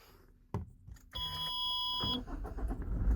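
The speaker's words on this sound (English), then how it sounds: "Start the car." A Toyota Fortuner diesel engine cranks and catches, while a steady electronic chime tone sounds from the dashboard, then the engine settles into a low idle.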